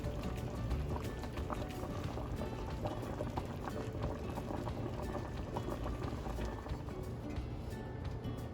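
Pork chop gravy thickened with flour bubbles and simmers in a pan, a steady soft gurgle with small popping bursts. It stays close and continuous, with no talking.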